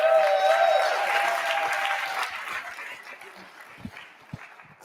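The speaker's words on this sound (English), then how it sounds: "Round of applause, come on." Applause from an audience at a sustainable food innovation session, loud and dense at first and then thinning and fading over several seconds, with a few scattered claps near the end.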